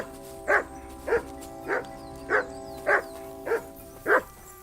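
A dog in the medieval game Kingdom Come Deliverance 2 barks seven times at an even pace, each bark short and clear, standing out over a quiet, steady background hum.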